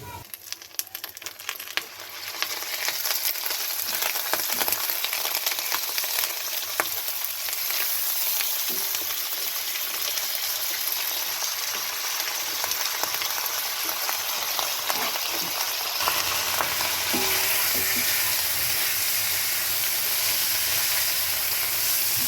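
About 250 grams of meat fries in a pot for tehari, a dense, unbroken, close sizzle running throughout with occasional soft stirring scrapes and no talking.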